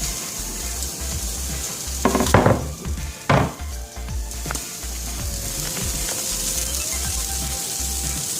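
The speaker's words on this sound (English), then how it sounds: "Add on the garlic for, after 4 minutes, add on the garlic cook it for a minute." Onions and garlic fry in a pan for pasta bolognese, giving a steady crackling sizzle throughout, with a few louder clattering stirs near the middle, close and unaccompanied by speech.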